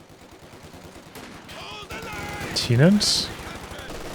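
Machine gun fire in a Company of Heroes 2 battle, a dense rattling burst of rapid shots under busy battlefield noise, with a commentator's voice talking over it.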